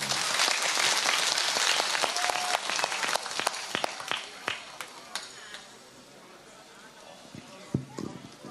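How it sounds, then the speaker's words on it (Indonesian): An audience at a religious study gathering with a preacher applauds for a TV crew, broad clapping that swells then fades under a speaking voice and crowd noise. "Tepuk tangan untuk BTV."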